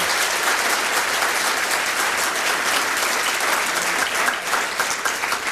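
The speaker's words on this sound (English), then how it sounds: "Let's give them a nice round of applause." A large audience claps steadily for members honoured for 40 years of service at a company service-anniversary celebration, a dense, even round of applause sustained throughout with no voices.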